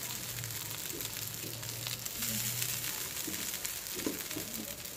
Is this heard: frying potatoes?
yes